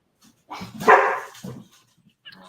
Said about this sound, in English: now the dog